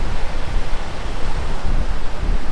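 Strong wind buffets a beach on the Timor Sea, a dense continuous roar of gusty noise with surf mixed in, loud and steady across the whole stretch, with no voices.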